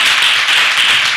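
Church congregation clapping during a Telugu Christian sermon, a dense, loud wash of many hands applauding together steadily for about a second with no individual claps standing out.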